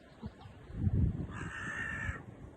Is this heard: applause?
no